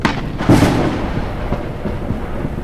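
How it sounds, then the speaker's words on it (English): Thunder from a lightning storm in the Forever Skies video game, a sharp close crack followed by a rolling, fading rumble over a low background of wind and rain. "Hate this lightning."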